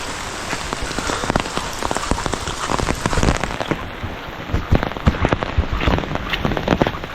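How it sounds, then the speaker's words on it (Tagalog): Heavy rain pours down at night outdoors near a garden, a loud, dense, continuous hiss with irregular sharper splatters as drops strike nearby surfaces. "Kakas ng ulan."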